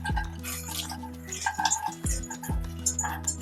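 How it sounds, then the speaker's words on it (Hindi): Makhana (fox nuts) dry-roasting in a pan for methi laddoo, with light rattling, clinks of a spatula against the pan and soft stirring, close by over a low steady hum. "तो अब उसी पैन में मखाना को भून लेंगे।"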